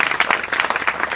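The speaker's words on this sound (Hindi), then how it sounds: "ताली बजा के।" Enthusiastic audience applause at a school college gathering, a dense, steady patter of many hands clapping together throughout, loud and close.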